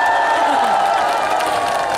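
A brief, dense wash of studio audience applause and cheering at a Korean TV music show taping, loud and unbroken throughout.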